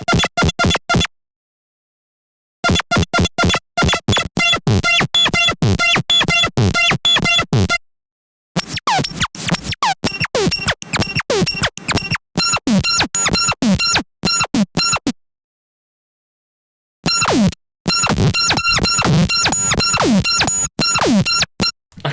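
A synthesizer sound resampled through a saturator and OTT compression comes in harsh, glitchy bursts of rapid stuttering hits, separated by several abrupt silent gaps, loud and with no talking.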